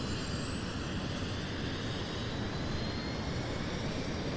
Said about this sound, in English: Ignore the plane that's taking off on top of me right now.